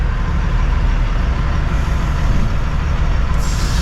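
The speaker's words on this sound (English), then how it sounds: "Engine running." A truck engine idles steadily at close range, a loud, constant low rumble with a brief hiss toward the end.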